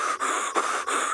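A voice imitates an aardvark's heavy breathing, three loud, close, breathy pants in quick succession.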